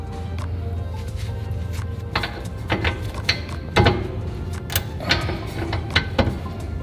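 Ratchet wrench loosening the 17 mm bottom bolt of a coilover strut on an R32 Nissan Skyline drift build, a series of close mechanical clicks and metallic taps over steady background hum, with louder knocks near the middle.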